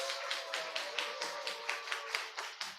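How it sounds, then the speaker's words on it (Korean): Church congregation applauding in thanks during a worship service, a quiet, rhythmic clapping that beats steadily for about three seconds under a faint sustained musical tone. "우리 감사의 박수 한번 보내드리겠습니다"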